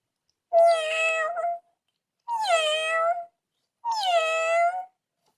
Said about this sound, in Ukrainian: Хто це у нас тут нявкає?